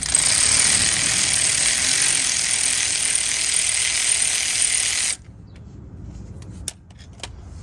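A corroded bolt on a Honda Pilot brake caliper is worked loose with locking pliers, giving a dense, loud grinding rattle for about five seconds, then quieter with a couple of sharp clicks.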